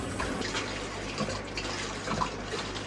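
Water drains steadily from a valve on a koi pond filter, a continuous soft rushing and trickling wash heard alone at moderate distance.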